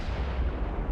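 Naval guns open fire in the warship game Ultimate Admiral: Dreadnoughts, a loud, dense, rumbling boom filling the whole moment with heavy low-end thunder and no voices.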